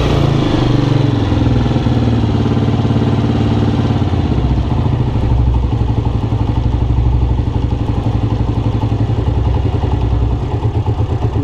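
A Honda CG 125 motorcycle engine idles steadily during carburetor adjustment, a loud, close, rhythmic mechanical putter with a slight dip in level near the end.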